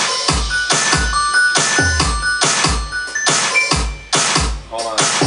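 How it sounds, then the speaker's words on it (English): A bouncy drum loop with Christmas bells layered on top for a holiday mashup, the loud kick hitting in steady beats and bright ringing bell tones sitting above it throughout. "this track needs a little bit of some bells. Christmas, you know. Christmas bells."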